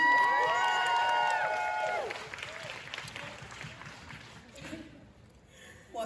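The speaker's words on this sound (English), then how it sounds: "Can we have a round of applause for Kim Rose?" A crowd at a Supernatural fan panel at Basingstoke Comic Con cheers and whoops with high voices at first, then the clapping and cheering taper off into a softer, scattered tail.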